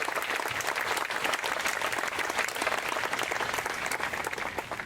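A crowd at a university building rededication ceremony gives a sustained round of applause, dense steady clapping lasting several seconds and tapering slightly at the end.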